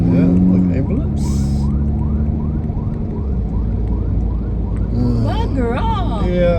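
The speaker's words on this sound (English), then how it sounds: "Yeah, like ambulance." An ambulance siren wails in rising and falling sweeps through city traffic in Davao City, heard from inside a moving car over steady road and engine noise, while someone talks over it.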